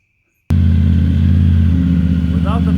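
A Triumph Tiger 900 motorcycle with its exhaust baffle removed starts up abruptly after a moment of silence and settles into a loud, deep, throaty idle rumble close to the microphone.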